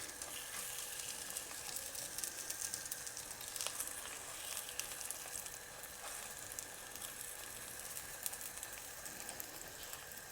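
Sweetcorn fritter batter sizzling in hot oil in a pan, a steady bright crackle with small pops throughout, fairly quiet and close, no voices.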